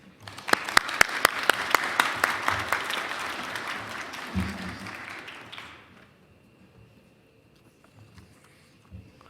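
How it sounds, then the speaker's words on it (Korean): A church congregation at a Sunday service claps to welcome the missionary, a strong burst of applause that swells and then fades out after about six seconds into near quiet. "우리 선교사님 나오실 때 박수로 환영하겠습니다"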